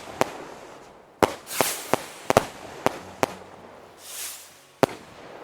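Fireworks in the Animal Crossing video game pop in a loose string of sharp, loud bangs, about ten bursts spread unevenly with hissing crackle trailing between them, and no voices.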